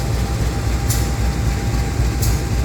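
A train at Malang Kota Lama station sends out a loud, steady rumble with a couple of sharp metallic clanks spaced apart; no one speaks.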